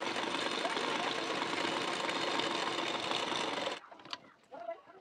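A sewing machine runs in one steady stretch while stitching a blouse seam, a continuous buzzing whir that cuts off abruptly near the end, followed by faint handling sounds.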